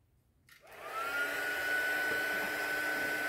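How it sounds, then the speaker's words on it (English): A heat gun used for heat embossing a card switches on after a brief quiet moment, then blows a steady, fairly loud whirring rush of air with a thin motor whine that holds to the end. "So I'm going to heat the gun up"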